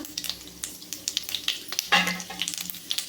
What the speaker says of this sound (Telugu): ఆయిల్ అయితే హీట్ అయిందండి కొంచెం ఆవాలు పచ్చిపప్పు మినపప్పు కొంచెం జీలకర్ర